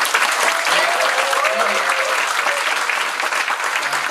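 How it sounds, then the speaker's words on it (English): An audience at a coworking conference claps for the event hosts, a loud, sustained burst of applause filling the room, with faint voices and a cheer or two mixed in. "can you get a round of applause for Steve, the Hillman team, the Paper and Toast team for hosting this incredible event?"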